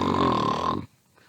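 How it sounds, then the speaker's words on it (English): Tremendously loud snore of a sloth as a story sound effect: one long, rasping, buzzy inhale-like snore, close and loud, cutting off abruptly into near silence. "The tremendously loud snore of the sloth woke up the cockatiel, the coati, and the jaguar."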